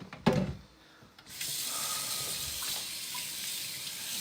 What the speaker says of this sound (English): And I'm going to rinse my lid down.